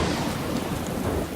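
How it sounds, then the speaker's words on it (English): Heavy rain pours steadily with a low rumble of thunder beneath it in a scene from the 2006 animated film Curious George, a dense, continuous hiss with no voices. "the rain stops as soon as it started so that Will and George can have a moment"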